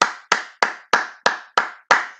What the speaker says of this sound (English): Clap for you, aplausos para ustedes, chicos.